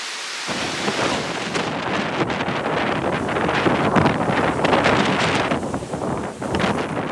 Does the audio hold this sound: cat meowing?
no